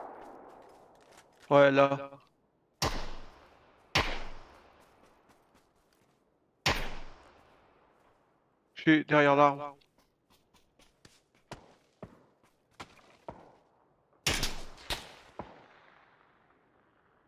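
Gunfire in PUBG cracks out in sharp, isolated shots at varying distances, some loud and close, others faint and far, with short bursts of speech between them.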